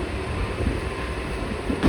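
An MMTS suburban train runs with a steady, loud rumble and rolling wheel noise, heard from on board or close by, with no voices.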